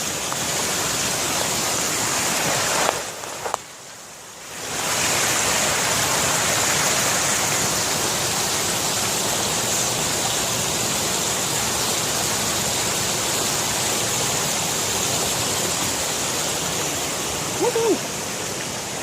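Clean spring water pours from a pipe outdoors in a steady, close, broadband rushing splash that holds for the whole stretch, with only a brief dip partway through.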